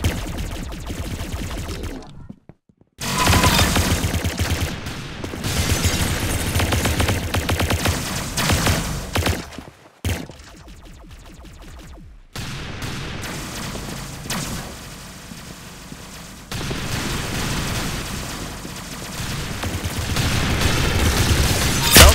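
Rapid bursts of gunfire from the Roblox shooter game Arsenal, dense volleys and booming shots over game music, broken by brief silent gaps, loud and close throughout.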